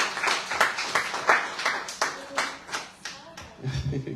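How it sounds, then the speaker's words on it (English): Audience claps for a bronze medal javelin athlete at a news round-up event in the BVI, a steady burst of many hands close by, fairly loud and sustained, thinning toward the end. "So give her 2 sets of round of applause."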